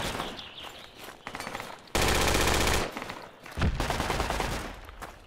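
Rapid automatic gunfire from a firefight in the military shooter Project Reality, with a long sustained burst in the middle and shorter volleys before and after, loud and close.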